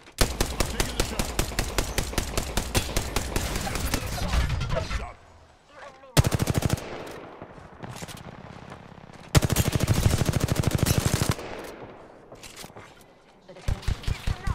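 Loud automatic gunfire from the battle royale game Apex Legends comes in several rapid sustained bursts, each separated by short quiet gaps, with a few shorter volleys near the end.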